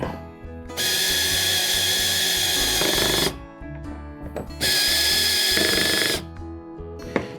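A cordless drill with its clutch turned down drives the front mounting screws for a Power-Pole Micro anchor on a Hobie Pro Angler kayak. It runs in two loud, sustained whirring bursts with ratcheting clicks between them.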